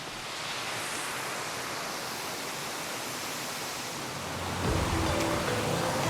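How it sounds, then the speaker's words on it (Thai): Khlong Lan waterfall in Kamphaeng Phet, heard from the foot of the falls, gives a dense, steady roar of falling water that fills the whole clip and swells slightly near the end. "เราอยู่ที่ ท้ายน้ำตกนะคะ"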